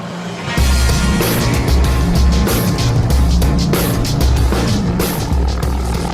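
Loud, steady helicopter rotor and engine roar with a rhythmic chopping pulse, close by and continuous throughout, as the helicopter carries a line crew working on 500,000-volt power lines.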